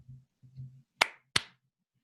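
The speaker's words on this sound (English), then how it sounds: "what's the sound of two hands clapping?" Two crisp hand claps ring out close and clear in a quiet room, evenly spaced about a third of a second apart, after a couple of soft low murmurs.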